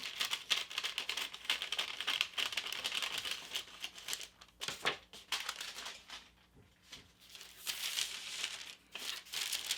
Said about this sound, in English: I'm going to trim this piece off at the bottom as well